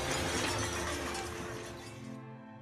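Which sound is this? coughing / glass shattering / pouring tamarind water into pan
glass shattering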